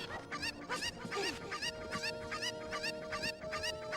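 Chickens squawk and cluck repeatedly in Zelda: Ocarina of Time, a steady run of sharp, close bird calls over a humming game backdrop with no talking.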